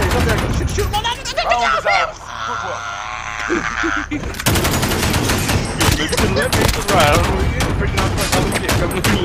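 Gunfire in the video game Modern Warfare crackles in rapid bursts and long automatic volleys, loud and close, with players talking over the shooting.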